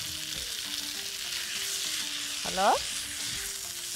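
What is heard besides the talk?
shrimp being stirred and fried in a pan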